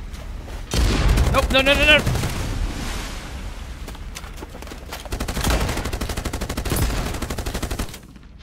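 A mounted gun fires in a post-apocalyptic water-world game, with long rattling bursts of rapid shots and booming impacts. A voice talks excitedly over the first part, then the firing carries on alone until it cuts off near the end.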